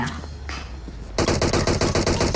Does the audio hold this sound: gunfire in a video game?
yes